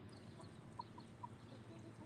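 A Speckled Sussex chicken gives a few soft, short clucks, faint over a low background hum.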